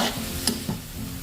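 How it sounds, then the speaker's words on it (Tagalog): Spoon or spatula stirring carrots and potatoes into marinated meat in a sizzling pan, close up, with a couple of scraping knocks over steady frying noise and no talk. "Halo-haloin lang natin."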